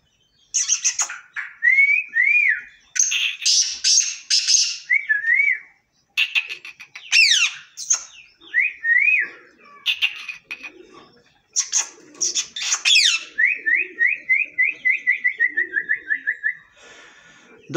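Male bird of a breeding pair calling repeatedly, with loud, clear sequences of whistled, trilling phrases broken by short pauses and ending in a long rapid series of falling notes.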